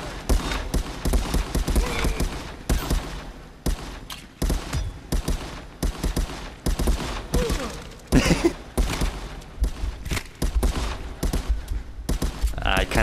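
Dense, near-constant gunfire bursts and rapid automatic shots in the VR shooter Contractors on Meta Quest Pro, loud and close, with brief gaps and some talk mixed in.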